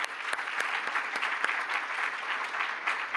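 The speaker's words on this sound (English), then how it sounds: "I would like to give a big applause to my co-panelists who are here" Audience applause for co-panelists at the opening plenary of a clean energy transition investment forum: a steady, dense wash of many hands clapping throughout, fairly loud and continuous, with no talking.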